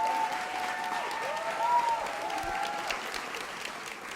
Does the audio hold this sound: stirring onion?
no